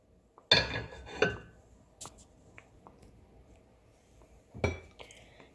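Fried chicken pieces tipped into thickened alfredo sauce in a pan, with a few sharp metallic clinks of a utensil against cookware, brief scrapes and soft knocks spaced apart and separated by quiet gaps.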